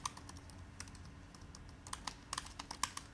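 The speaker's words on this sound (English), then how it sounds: "So you can type in your description" Quiet, quick keystrokes on a computer keyboard as a page description is typed in, a loose run of light clicks that bunches into a faster burst near the end.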